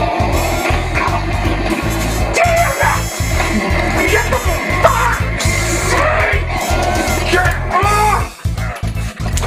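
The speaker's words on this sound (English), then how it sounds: "if they get behind you, they'll constantly scream at you" Enemies in the horror video game Silent Hill: Shattered Memories scream and yell in loud, overlapping, continuous cries over a pounding, rhythmic low music track.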